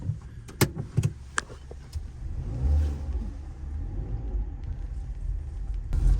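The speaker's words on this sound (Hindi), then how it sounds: "मैंने हिम्मत करके गाड़ी तो अब ड्राइव करना शुरू कर दिया घर की तरफ" A car driving toward home in an Indian city, its engine rumbling steadily with a swell of acceleration midway, a few sharp clicks and knocks early on, and no speech.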